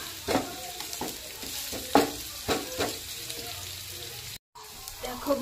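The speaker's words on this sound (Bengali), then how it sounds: "এইভাবে নাড়তে থাকবো।" Onions fry in a pan with a steady sizzle, while a utensil stirs them in repeated scraping strokes. The sound is close and continuous.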